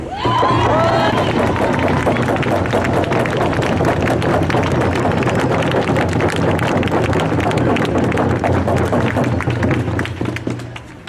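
A crowd at an outdoor Idle No More anti-fracking rally in support of the Mi'kmaq claps and cheers loudly and steadily for about ten seconds, with wind buffeting the microphone and voices mixed in.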